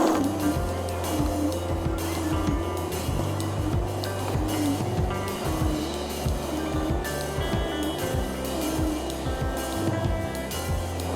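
A $200 corded electric snow blower runs steadily with a loud, continuous motor drone and churning rumble as it is dragged back like a shovel, with scraping surges throughout and no talking.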